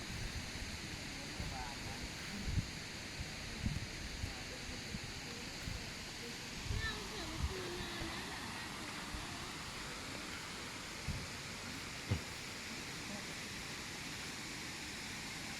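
Steady rushing water roars continuously from the nearby Huai Mae Khamin waterfall, with faint voices murmuring underneath.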